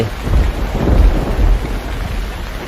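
Rain falls steadily in a forest while low thunder rumbles and swells underneath, loud and close, with no voices.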